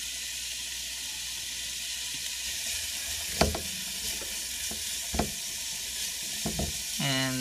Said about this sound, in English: put in the onions into the coconut oil. And yay, I got a sizzle.